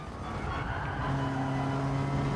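A GR3 race car engine drones steadily as the car takes a corner at the Nürburgring GP in a racing video game. The tone holds a sustained, even pitch and grows slightly louder, with no talking.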